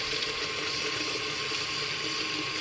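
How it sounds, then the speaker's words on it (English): Hot water pouring onto potting mix for seed starting, a steady, close, full rush of flowing water that holds an even level throughout with no talk. "we're going to put some hot water on it, because hot water will absorb into the potting soil faster than cold water."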